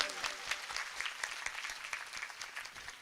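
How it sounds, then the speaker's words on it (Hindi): Audience at a Bhagwat Katha claps loudly in a sustained, dense round of applause, crackling steadily for the whole span without a break. "उनके लिए भी ताली बजाओ, जोर से बजाओ, जोर से।"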